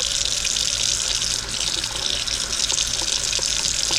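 An old tap runs steadily while the water slowly warms, making a constant, close splashing hiss into the sink with no pauses.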